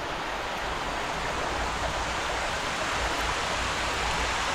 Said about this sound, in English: Candlewood Hill Brook and the falls over there